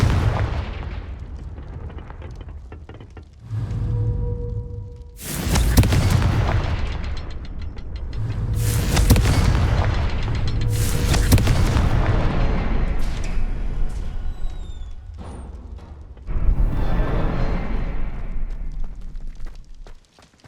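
Confringo spell blasts from the Hogwarts Legacy video game, several loud booming explosions in succession with rumbling low-end tails over a continuous background, no talking.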